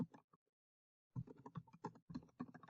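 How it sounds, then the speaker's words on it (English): Quick bursts of typing on a computer keyboard, close and crisp: a short flurry of key clicks, a brief pause, then a longer rapid run of keystrokes. "So I've typed that in."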